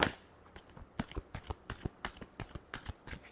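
Tarot cards being shuffled close up, with crisp papery slaps and riffles that come in a quick, uneven rhythm, fairly loud and clear, with no voice over them.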